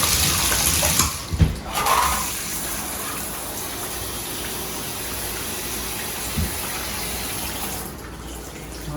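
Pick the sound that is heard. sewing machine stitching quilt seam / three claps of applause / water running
water running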